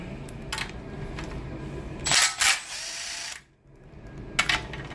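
A power tool spins out 13mm windage tray bolts on an L99 engine during a teardown, with short, close bursts of whirring and rattling separated by pauses and a brief near-silence.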